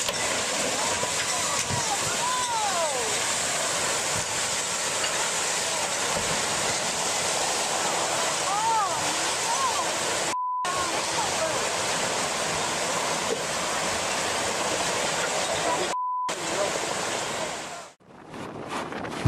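Surging water sloshes and washes around boats at flooded docks during a natural disaster, a steady loud roar of surf and wind that runs without a break, cut by two brief dropouts before it fades near the end.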